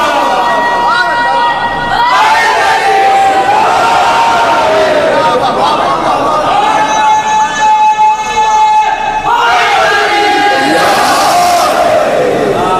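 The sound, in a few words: congregation chanting in response to a slogan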